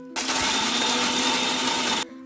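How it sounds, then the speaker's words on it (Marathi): A mixer grinder whirs as it grinds almonds to a fine powder, starting abruptly and running as one loud, steady motor whine for about two seconds before cutting off sharply. "मी मिक्सरला बदाम बारीक करून घेते"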